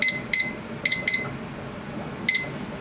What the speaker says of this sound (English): So I'm just going to set a timer for 10 minutes.